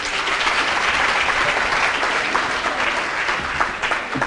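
Audience applause following a business and entrepreneurship talk, a steady dense wash of clapping lasting throughout at fairly even loudness.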